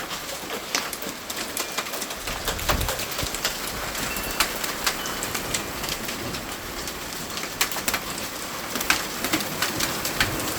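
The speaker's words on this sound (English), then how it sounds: "Freezing freaking rain." Freezing rain mixed with hail falls hard and steadily outdoors, a dense continuous patter with sharp irregular clicks and taps of ice striking nearby surfaces, alone without voices.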